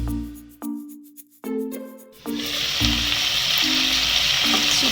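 Chicken pieces for tandoori chicken fry in a pan over a low flame, a soft sizzle that starts after a few handling knocks and clatters, then holds steady and fairly close with a few pan bumps.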